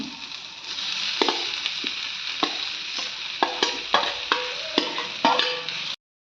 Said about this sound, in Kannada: ಎಲ್ಲ ಫ್ರೈ ಮಾಡ್ಕೊಳ್ತಾ ಇದ್ದೀನಿ. ಈಗ ಮ್ಯಾಶ್ ಆಗಿರೋ ಈ ಪೊಟ್ಯಾಟೋಸ್ನ ಹಾಕ್ತಾ ಇದ್ದೀನಿ